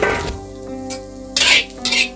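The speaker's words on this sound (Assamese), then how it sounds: "চয়াবিনখিনি আকৌ ভাজি ল'ব লাগিব" Soybean chunks stir-fried without oil in a pan give short scraping, clattering strokes of a utensil against metal, with a few brief bursts of dry sizzle up close.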